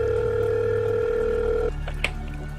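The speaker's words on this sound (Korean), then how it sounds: "의아한 나머지 친구한테 직접 다시 전화를 걸었습니다." Telephone ringing tone heard while calling a friend: a steady electronic tone holds for under two seconds and then cuts off, leaving a quieter line with a faint click.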